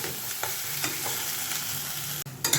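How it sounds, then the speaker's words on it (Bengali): Cauliflower stem bharta is stirred in a frying pan until it pulls away from the sides, a constant soft sizzle with rhythmic scraping strokes of the spatula, close and moderately quiet, ending with a brief clatter. "দিয়ে এবার ভালো করে নাড়াচাড়া করব যতক্ষণ না ভর্তাটা প্যানের গা ছেড়ে দেয়।"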